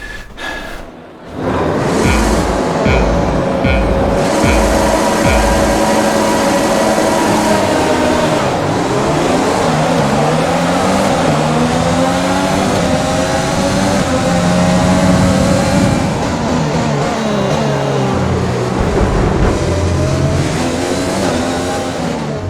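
Race cars in the F1 2020 video game roar off the start line together, a loud sustained engine howl climbing through gear changes with layered revving from the surrounding field.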